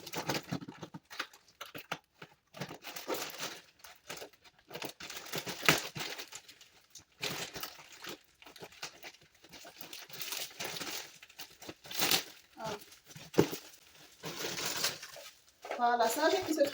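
Plastic packaging from an online order crinkles and rustles as a parcel is unwrapped, with bursts of tearing and handling noise scattered through, loud and close.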